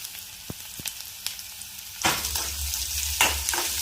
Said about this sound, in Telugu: పోపు వేసుకొని ఆనియన్స్ వేసుకొని ఆనియన్స్ ఫ్రై చేయాలి.